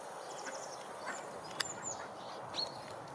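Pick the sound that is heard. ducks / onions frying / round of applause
ducks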